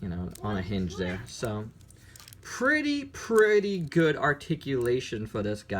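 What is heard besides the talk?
None of the usual background noises is heard.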